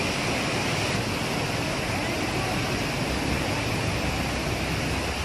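Typhoon floodwater from the overflowing Pasig floodway rushing hard against a bridge post, a loud, broad, unbroken roar of churning water filling the whole clip.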